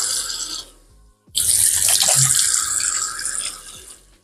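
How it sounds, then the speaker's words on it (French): Tap water runs into a bathroom sink during a face rinse, a steady close splashing that stops briefly, then resumes more strongly and continues to the end. "je vais me rincer le visage"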